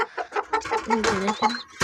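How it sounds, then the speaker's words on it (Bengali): A hen and a rooster kept as backyard birds cluck close by in a quick run of short, choppy calls, with one longer drawn-out note near the end. "তো এটা হচ্ছে মুরগি আর ওটা হচ্ছে মোরগ"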